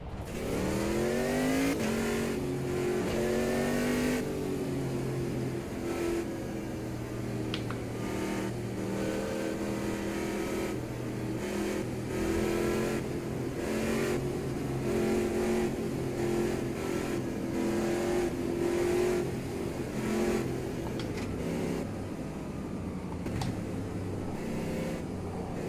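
Race car engine in the video game Automobilista 2, during a P1 and GT4 endurance league race, loud and continuous throughout, revs climbing and dropping through repeated gear changes with harmonic whine and occasional tyre noise.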